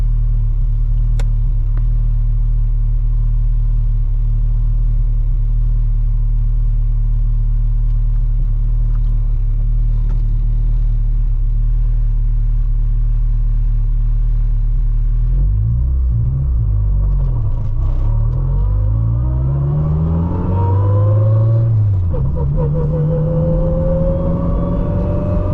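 A 600 HP Honda Civic Si rumbles deep and steady while driving on the road, then its engine note rises and shifts through several revving sweeps later on, loud and close.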